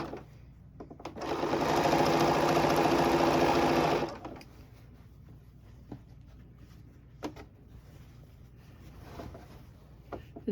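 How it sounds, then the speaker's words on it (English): A sewing machine stitches binding onto a quilt, running steadily at close range for about three seconds before stopping, followed by light clicks and handling of fabric. "I have the camera right in the way of where I'm sewing"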